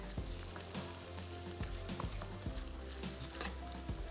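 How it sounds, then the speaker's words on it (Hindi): Mutton browning in a pot with onion, ginger, garlic and garam masala, giving a close, dense sizzle with periodic low scraping strokes of a stirring spoon, steady throughout and without speech. "तो सबसे पहले गोश्त की थोड़ी सी भुनाई हम कर लेते हैं"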